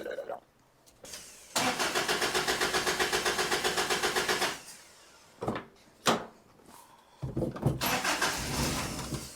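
A 1985 Toyota pickup with a carburetor being tuned after sitting for seven years cranks rhythmically for several seconds, sputters in short bursts, then catches and runs roughly at a high idle, heard up close.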